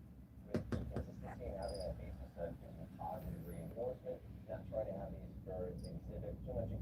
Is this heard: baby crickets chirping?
yes